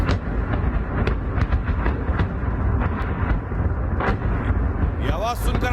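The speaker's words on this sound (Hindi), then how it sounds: "सुनिए जरा, एम्बियंस के साथ सुनाइए धमाकों की आवाज।" Rocket explosions from shelling in Mykolaiv at night, a dense rumbling roar with several sharper booms in quick succession, loud and continuous with a whistling streak near the end.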